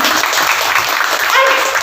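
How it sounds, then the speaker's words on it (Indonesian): A dense burst of audience applause fills the room at a company gala dinner in Bali, many hands clapping loudly and evenly throughout, with a voice faintly underneath. "Tepuk tangan dong."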